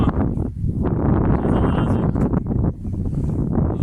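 Strong wind buffets the microphone in a loud, continuous roar with gusty rumbling throughout.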